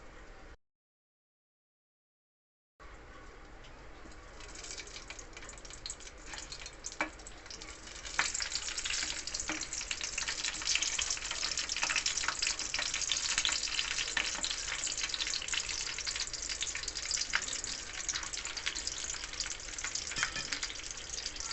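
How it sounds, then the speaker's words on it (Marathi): Green chillies fry in hot oil for a stuffed-chilli dish, a loud, steady crackling sizzle that starts after a short silence and swells as they hit the oil, continuing alone without talk. "तेल गरम झाल्यावरती यामध्ये आपण मिरच्या टाकून घेऊ."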